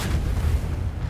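A grenade explodes in the shooter game The Division 2, a single heavy low boom with a rumbling tail, loud and close, with no talk over it.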